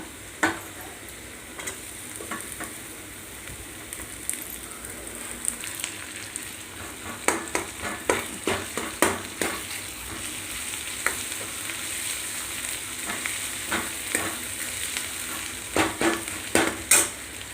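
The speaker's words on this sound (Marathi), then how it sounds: "कांदा थोडासा लाल होत आला आहे त्यात देणार आहे टोमॅटो टाकून" Onion sizzles in oil in a pan as tomato is added and stirred in, a steady soft frying hiss broken by irregular clicks and scrapes of the spoon against the pan, with no voices heard.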